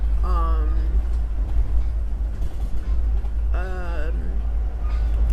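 Low, constant rumble inside a long auto train carrying passengers' cars, a steady heavy drone under intermittent speech from a person on board.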